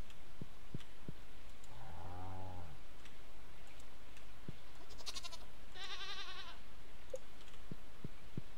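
Goats bleat in the farm game Stardew Valley, two distinct bleats a few seconds apart over quiet background ticks and soft clicks, with no talking.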